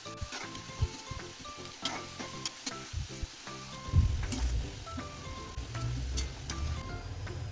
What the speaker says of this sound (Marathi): अगदी गोल्डन ब्राऊन होईपर्यंत आपल्याला त्यांना तळून घ्यायचं आहे.